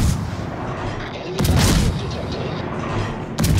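Naval guns firing in the World of Warships game, heavy booming shots with a loud report near 1.4 s and another at the end, over continuous low rumble and battle noise.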